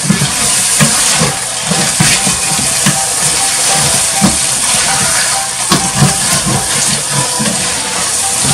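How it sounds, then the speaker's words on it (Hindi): Chana dal simmers in a pot of water on the stove as it comes to a boil, giving a steady hiss and rolling bubble noise with soft popping throughout, close and fairly loud. "पानी में उबाल आ गया है।"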